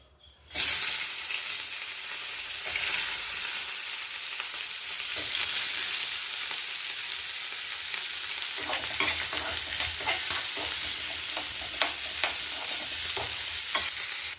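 Onion and garlic sauté in a hot pan, giving a loud, continuous sizzle, with scraping stirs growing more frequent in the second half; no voices.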